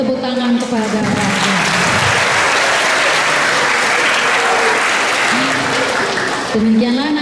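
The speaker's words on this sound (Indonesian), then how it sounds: "Oke, beri tepuk tangan kepada Pak" Sustained audience applause following a school orientation talk on curriculum, loud and dense throughout, with a voice speaking briefly at the start and end.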